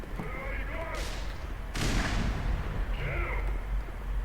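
A grenade blast in the video game Black Mesa erupts sharply and loudly partway through, followed by a rumbling decay, with people talking over the game sounds before and after.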